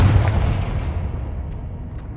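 A Confringo fire spell in the video game Hogwarts Legacy bursts with a single heavy blast that rolls away in a fading, rumbling decay.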